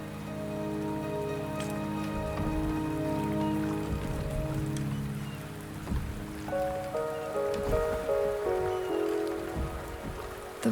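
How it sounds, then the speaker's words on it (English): Rain falls in the video game Wuthering Waves, a dense, steady patter on surfaces that holds throughout, with soft tonal music beneath it and no speech. "The rain is subsiding, and the sky will soon clear."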